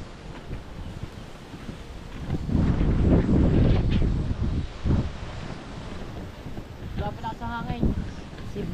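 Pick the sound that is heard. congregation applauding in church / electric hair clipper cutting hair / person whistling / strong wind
strong wind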